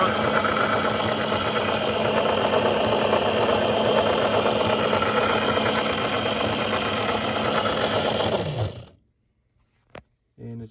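A prototype B2-EMO final drive unit with bearings and bushings runs with a steady, smooth mechanical hum for about eight seconds, then winds down and stops, followed by a couple of brief clicks.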